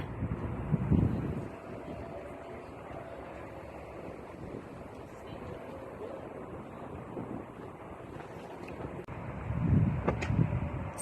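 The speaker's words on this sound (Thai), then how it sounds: "ลมแรงหนาวด้วย" Strong, cold wind gusts across an open outdoor spot where petunias are on display, a broad steady rush with louder buffeting bursts near the start and again near the end, no one speaking.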